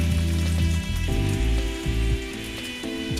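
Mini Italian sausages, pinched and twisted into short lengths, brown in a hot pan with a steady close sizzle and crackle, with a few knocks from turning them partway through.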